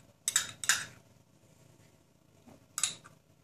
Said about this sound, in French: vous allez le mettre dans un saladier une fois qu'il est mou et le mélanger avec votre jaune d'œuf